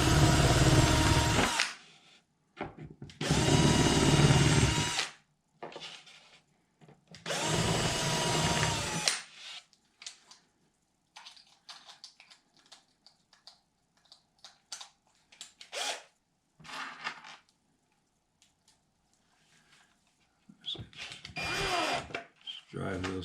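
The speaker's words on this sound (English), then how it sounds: "pre-drill 4 holes right next to the top here." A power drill bores pilot holes into wood for a guitar top gluing jig, three loud whirring bursts of about two seconds each, followed by quieter handling and knocking sounds.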